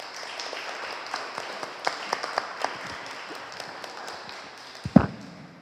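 Audience applause following the introduction of two speakers at a talk, a thin, scattered patter of claps from a modest crowd, fairly faint, ending with a louder knock.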